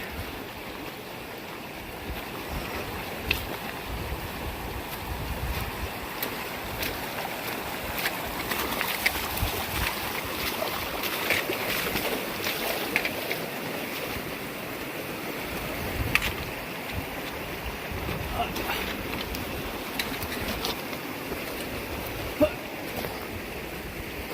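River water rushes in a continuous, even wash along the Pacific Crest Trail between Banner and Big Bear, with occasional small splashes and knocks nearby.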